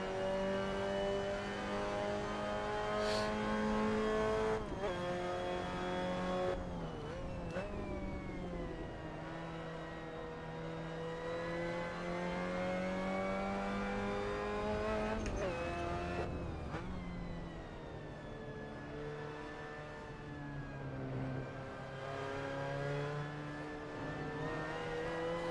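A Mazda MX-5 Cup race car at Okayama in a sim racing game, its engine droning and revving steadily through gear changes, pitch rising and dipping over a long continuous run, close and alone.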